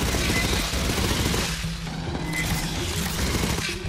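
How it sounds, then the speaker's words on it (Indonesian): Rapid automatic gunfire from the third-person shooter Aliens: Fireteam Elite runs through the whole stretch, dense and loud with low booms mixed in and no voices. "Kita tembak aja dah."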